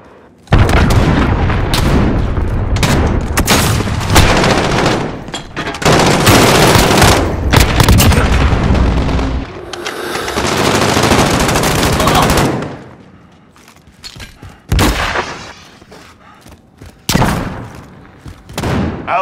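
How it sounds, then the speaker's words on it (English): Relentless video game battle audio: rapid machine-gun bursts, heavy booms and explosions of an incoming cruise missile strike, loud and dense, easing into sparser shots and blasts near the end. "Enemy cruise missile incoming."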